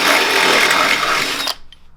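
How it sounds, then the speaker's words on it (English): Power drill boring through a metal kart seat bracket to fit a heim joint, a loud steady grinding whine for about a second and a half that cuts off abruptly into quiet. "drilling a hole in this seat bracket to put a heim joint"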